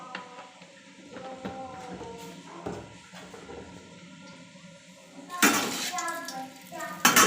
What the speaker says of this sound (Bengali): কড়াইটা বসিয়ে দিলাম, এখন তেল দিয়ে দিব, গরম করে নেব তেলটা।